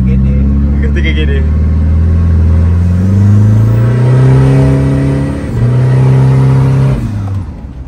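A bracket-racing drag car engine revs loudly and close, deep rumbling tones rising and falling through several throttle swells before easing off near the end.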